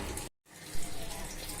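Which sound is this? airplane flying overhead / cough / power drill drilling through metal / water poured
water poured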